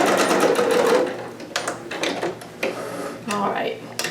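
A sewing machine back stitching a garment bodice seam, with a brief steady whir followed by short stop-start bursts of stitching and mechanical clicks, close and moderately loud.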